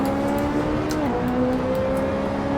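A Ferrari 458 race car engine in Assetto Corsa sings at high revs, dips briefly on a gear change, then climbs again in a loud, continuous tone with no talking.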